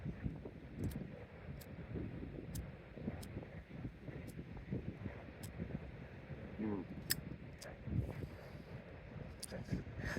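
Gusty seaside wind buffets the microphone in a steady rough rumble throughout, with scattered sharp ticks and a faint voice beneath.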